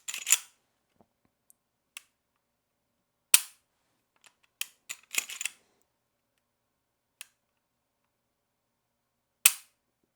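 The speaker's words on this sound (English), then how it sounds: "So the Lem trigger is, it's a single pull." An HK P30 LEM pistol's trigger is pulled, giving a series of short, sharp mechanical clicks at irregular intervals in a quiet room, some single and a few closely grouped.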